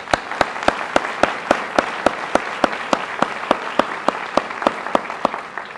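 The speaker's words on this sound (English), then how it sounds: "Let's have another round of applause." A lone, evenly paced clap repeats about four times a second at a university State of the University address in 2011, each crisp hit distinct, with faint room sound between them and no talking.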